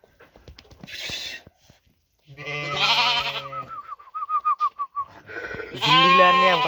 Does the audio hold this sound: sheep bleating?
yes